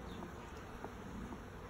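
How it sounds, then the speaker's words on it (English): Honeybees crowding a hive entrance, many returning loaded with pollen: a steady, soft insect buzz under faint background noise. "There are a ton of bees marching in with pollen-filled sacks, just loaded right up"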